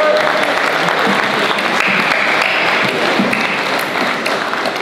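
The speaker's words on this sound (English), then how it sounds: "Round of applause for these two." An audience at a Misfits 4 boxing press conference gives a sustained round of applause, with dense clapping and some crowd noise throughout, fading slightly at the end.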